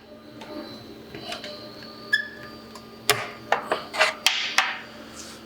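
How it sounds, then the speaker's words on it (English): Left-hand side body cover being removed from a Harley trike: scraping and rubbing of panel and plastic, then a run of sharp knocks and clunks in the second half, close and moderately loud, with no talking. "Now we're going to move the left-hand side cover"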